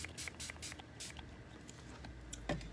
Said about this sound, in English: I'm just going to spray it a little bit more.